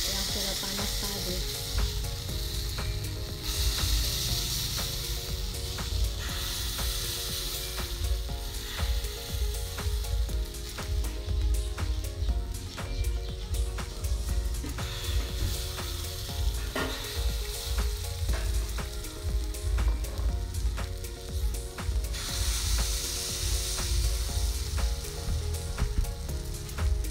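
Kue angka batter sizzles steadily in a hot cake mold, a continuous close frying hiss with faint scraping and clinks throughout, no talking.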